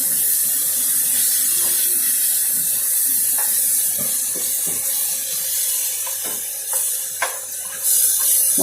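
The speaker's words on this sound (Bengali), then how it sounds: "জল এসে গেছে, এবার জল পড়ে যাচ্ছে" Water poured into frying masala in a pan on a gas stove while cooking paneer, peas and corn, a steady loud rushing pour with hissing and sizzling throughout.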